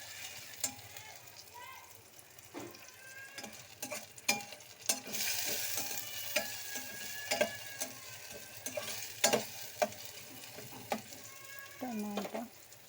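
Onions fry in a pan as a spoon stirs them, a soft steady sizzle broken by frequent scraping and clinking of the utensil against the pan, close and fairly quiet.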